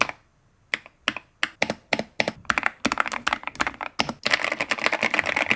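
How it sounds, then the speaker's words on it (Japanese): Typing on an EPOMAKER Shadow-S mechanical keyboard with five-layer foam dampening and gasket mount: after a quiet start, crisp clacky keystrokes land one by one at an uneven pace, then quicken into a dense, fast burst, close and clear with no talk. "キーストロークの1打1打が心地よく、押すたびに一室に音が鳴り響き"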